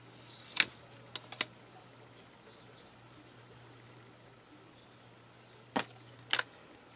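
A blade slicing a straight edge through polymer clay during bracelet making, giving a few short, sharp clicks near the start and a pair of crisp taps near the end over quiet room hiss.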